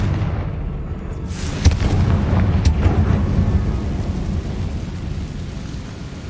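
The Confringo blasting spell erupts in Hogwarts Legacy as a loud, close burst of cracking explosion, followed by a rumbling rolling tail that slowly fades.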